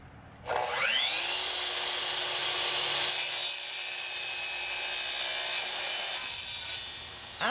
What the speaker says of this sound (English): After we have cut our PVC pipe